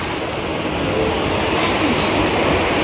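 Steady loud rumble and rattle of a Mumbai local commuter train running along the tracks near Bandra, continuous broadband noise with no pauses.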